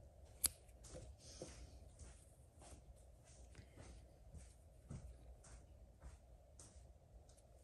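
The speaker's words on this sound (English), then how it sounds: "Here we are going to cut the yarn." Scissors cut crochet yarn in a quiet room with one sharp, close snip early on, followed by faint handling clicks and soft rustles of the yarn, with no talk.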